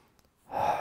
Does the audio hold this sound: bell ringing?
no